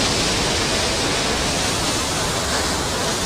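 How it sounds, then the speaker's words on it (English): Powerful water gushing and spraying at a forceful waterfall in the Vagamon and Munnar area of Kerala, heard close up as a dense, loud, unbroken roar. "there's a lot of noise, the water gushing."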